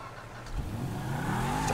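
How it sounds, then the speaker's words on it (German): A car engine in the video game GTA 5 cranks and catches, a low rumble swelling into a steady idling hum, fairly close and moderately loud with no talking. "dachte schon, mein Auto springt nicht an"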